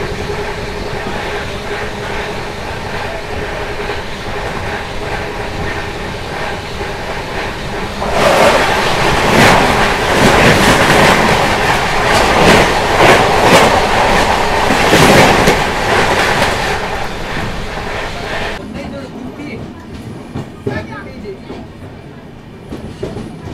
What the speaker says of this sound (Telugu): 18520 ముంబై LTT ఇంకా విశాఖపట్నం ట్రైన్ అయితే వస్తుంది